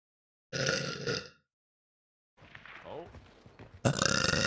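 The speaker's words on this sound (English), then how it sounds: "I need to burp." A woman streaming on Twitch burps loudly after a short spoken line, with a pause and another voice following, the belch near and brief.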